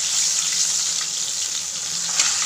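A fish head fries in a pan for a Bengali meal, giving a steady, close hiss of sizzling oil that holds at one level throughout with no voices.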